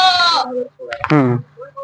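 A goat bleats twice at close range on a goat farm, a short wavering cry followed by a second louder one, with a brief quiet gap between.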